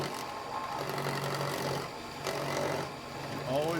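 A skew chisel cutting a wood baluster spinning on a lathe, a rough scraping hiss that comes and goes in a few short passes, close by.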